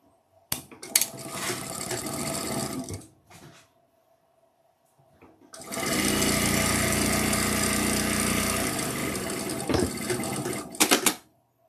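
A home sewing machine stitches together black 8-inch fabric squares, running in two bursts, a short one and then a longer steady whir, with clicks and handling noises between them.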